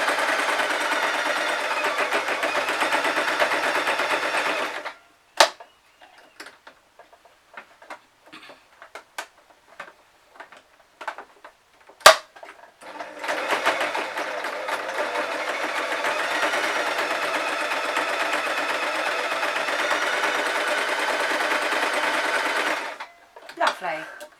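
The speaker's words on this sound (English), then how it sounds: "it's sewing 6 layers of fleece, and it is cutting through them like butter" Sewing machine stitching through six layers of fleece for a puppy-ears hat: two long, steady runs of rapid mechanical stitching separated by a quiet pause filled with clicks and handling noises.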